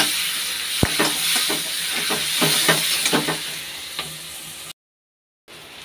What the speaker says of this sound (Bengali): ডিমটা পিস পিস করে ভাজার কারণে তেলটা একদম ফেনা ফেনা হয়ে গেছে।